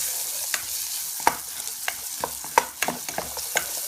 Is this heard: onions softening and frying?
yes